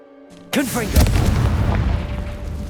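A Confringo fire spell in the Hogwarts Legacy video game bursts with a sudden loud boom, followed by a crackling, rumbling explosion tail and magical whooshing effects that fade over a couple of seconds.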